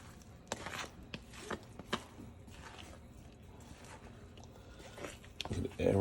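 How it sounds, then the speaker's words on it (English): Sourdough starter (leaven), nearly doubled overnight, being stirred in its container: a few soft sticky squelches and scrapes, close and quiet, with some louder knocks near the end. "What I'm going to do now is just give it a little stir."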